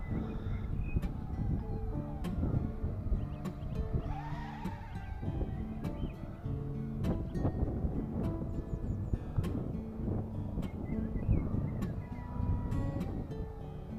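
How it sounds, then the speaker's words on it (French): Strong wind buffeting a microphone outdoors during an S9 Broadream drone test flight, a constant loud rumbling roar with gusty fluctuations and the drone's whine faintly underneath. "mais il y a énormément de vent"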